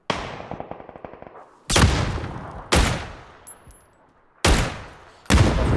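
Bursts of gunfire in the battle royale game PUBG: a quick rattling volley, then four loud, sharp shots spaced about a second apart, each with a long decaying echo, with no voices over them.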